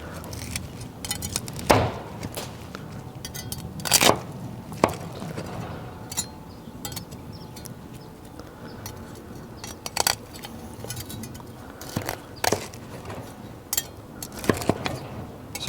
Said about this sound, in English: Meat cleaver. Let's see, so this will make it easy to cut right through them.